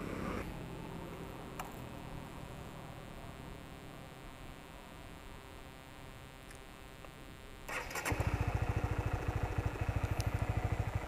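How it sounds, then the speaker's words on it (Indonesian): A steady electrical hum runs for several seconds, then a 2016 Honda CBR150 motorcycle engine cranks and catches, settling into a loud, even idle with rapid pulses. "sekarang saya akan menyalakan mesin"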